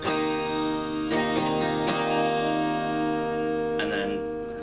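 An acoustic guitar plays a chord shape from the intro of a song. A few soft up-and-down strums let the notes ring and sustain, with one more light strum near the end, close and fairly quiet.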